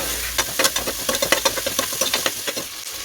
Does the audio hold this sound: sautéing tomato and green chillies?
yes